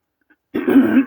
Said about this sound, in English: Excuse me while I clear my throat.